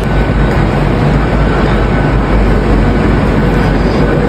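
A train pulls into a station platform with a loud, continuous low rumble and broadband rail noise throughout, without a break.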